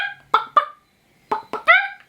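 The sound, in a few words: chickens clucking sporadically in the Shadow and Bone video game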